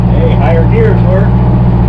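A Fiat Allis track loader's engine drones steadily up close while driving in a higher gear, a constant low rumble with whining harmonics throughout, as a voice speaks over it.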